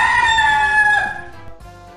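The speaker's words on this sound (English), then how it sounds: "rooster," A domestic rooster gives a single loud, close crow lasting about a second, then trails off into quiet background sounds.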